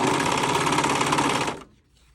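A sewing machine runs steadily while stitching boxer-brief fabric, a loud close rapid mechanical whir that stops abruptly and leaves quiet.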